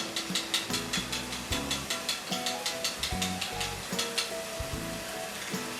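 Raw banana curry sizzles and crackles steadily in a hot pan as whipped sour yogurt goes in, with quick repeated stirring scrapes and clinks of a utensil over the frying, close and fairly loud throughout.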